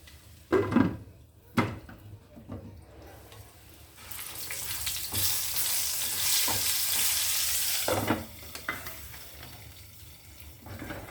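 Vegetables sizzle and fry steadily in a hot pan for Telugu masala curry, with a few clanks of a spoon turning them at the start and again near the end; no talking.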